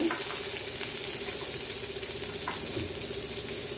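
Cashew nuts frying in ghee on a stovetop, a steady, faint sizzle that holds even throughout, with a few small pops and scrapes and no voices.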